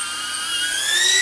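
A DJI Avata FPV drone flies close by, its propellers producing a loud, high-pitched whine whose pitch rises steadily as it speeds up.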